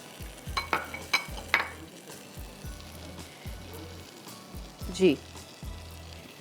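Masala sizzles steadily in a pan for a Murgh Nargisi dish, with a soft stirring scrape and a few utensil clinks over the bubbling; a brief word is spoken partway through.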